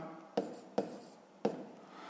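Three short, scratchy strokes are written on a board or paper during a fifth-grade maths exercise, spaced irregularly against a quiet room.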